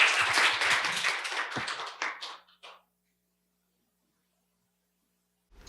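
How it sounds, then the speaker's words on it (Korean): An audience at a seminar gives a burst of applause, many hands clapping together close by for about two seconds, then thinning to a few scattered claps before falling silent. "힘찬 박수 부탁드리겠습니다."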